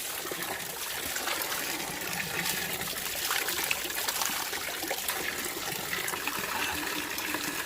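Water trickles and splashes steadily from a natural spring stream in Tung Chung, Hong Kong, a continuous close babble of flowing liquid with no talking.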